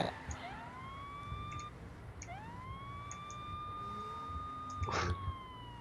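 A police car siren in Saints Row: The Third wails in long rising and falling sweeps, repeating about three times over game background noise, with a brief burst of clatter near the end.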